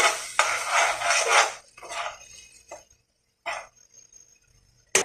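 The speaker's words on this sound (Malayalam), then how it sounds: "ഒന്നുകൂടി ഇളക്കാം." Food being stirred in a pan, heard as loud, close scraping of a metal spoon against the pan in several separate bursts with short quiet gaps between.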